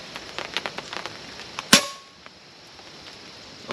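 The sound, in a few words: FX Panthera air rifle shot firing boat tail slug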